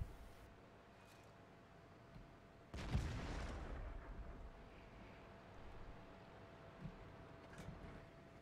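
Tank cannon fired in a video game, a single heavy boom with a rumbling tail that fades over about a second, set against quiet background ambience.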